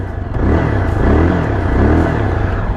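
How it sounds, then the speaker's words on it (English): A Yezdi Adventure motorcycle engine revs, its exhaust note loud and close, with a low throbbing pulse that swells and eases steadily across the clip. "The exhaust note is also good."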